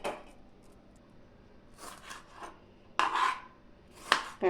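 Tomato, onion, green chillies and coriander are chopped with a knife, giving a handful of scattered, soft-to-sharp cuts and scraping taps, close and fairly quiet, with gaps between strokes and no talking.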